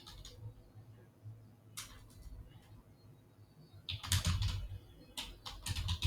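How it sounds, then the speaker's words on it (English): Fingers tap on a computer keyboard nearby while a name is typed into a form: faint scattered keystrokes at first, then a quicker, louder run of clicks toward the end. "just type in your name"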